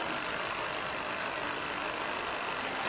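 A Honda Civic engine runs roughly at idle, misfiring and low on power, a steady loud mechanical drone with an uneven, shaky, vibrating texture.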